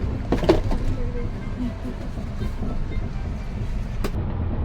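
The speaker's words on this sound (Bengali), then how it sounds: "ধানবাদ থেকে ট্রেন ছেড়ে দিয়েছে" Inside a moving Ranchi–Howrah Shatabdi Express after leaving Dhanbad, a steady low rumble of the running coach carries on throughout, with a few brief clicks and knocks over it.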